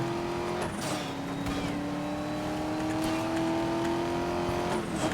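Racing car driving in Need for Speed: Most Wanted (2012), a loud steady engine drone that rises gradually in pitch, dipping briefly at gear shifts, with faint tire noise.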